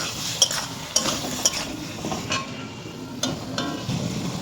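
Potatoes fry in a spiced masala while a utensil stirs and scrapes the pan, giving a faint sizzle broken by a few sharp metallic clinks, with no talk.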